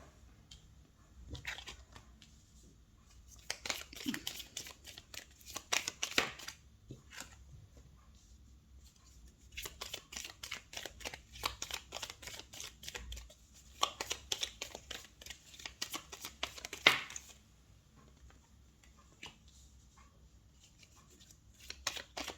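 Tarot cards laid out on a table one after another, soft papery slaps, slides and shuffling rustles in irregular bursts separated by quiet gaps, close and fairly faint, with no speech.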